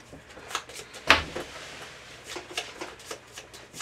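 A deck of imp monster cards for the Gloomhaven board game being shuffled, giving a soft riffling burst with a sharp snap near the start and lighter flicks and taps after it, close and fairly quiet, with no talking.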